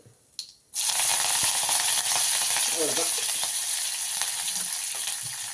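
Spices hit hot oil in a pan while being tempered for a ridge gourd peel chutney, bursting into a loud, steady sizzle that crackles on for several seconds after a brief spoken word.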